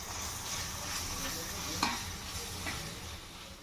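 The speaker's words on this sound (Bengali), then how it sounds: "সঙ্গে দিচ্ছি পরিমাণ মতো হলুদের গুঁড়ো, দিয়ে এটাকে খুব ভালো করে কষে নেব" Boiled chickpeas with salt and turmeric powder being stir-fried in a pan for cholar ghugni, giving a steady soft sizzle with light stirring scrapes and one brief sharper clink near the middle.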